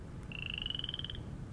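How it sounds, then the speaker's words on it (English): A single frog croaks near a bungalow at night, one drawn-out, rapidly pulsing call lasting just under a second over quiet low background noise. "I could clearly hear that irritating frog croaking away at some corner of the bungalow"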